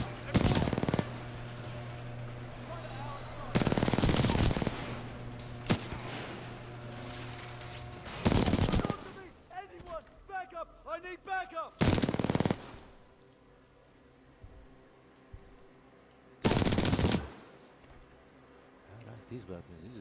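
Weapons firing in the shooter Titanfall 2 come in several loud bursts of rapid automatic fire, spaced several seconds apart. Quieter clattering and game sounds fill the gaps, with a voice speaking between bursts.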